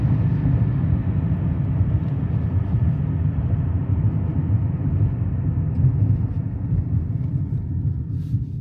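A Nissan Stagea station wagon with a three-speed gearbox drifting near a workplace, a steady close engine rumble with broadband road and tyre noise that holds fairly even throughout.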